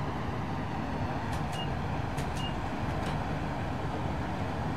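Class 90 electric locomotive accelerating in Train Simulator 2021, a steady dense rumble of traction and rolling noise throughout, with a few faint high tonal whines briefly rising above it.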